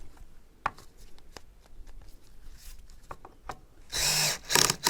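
A screw driven countersunk into an old redwood deck board: a few sharp clicks and taps, then a loud burst of power-driver whirring near the end, close and alone.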